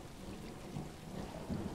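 Low, faint rumbling thunder in the video game Stray, blended with steady rain noise across a short stretch without any voices.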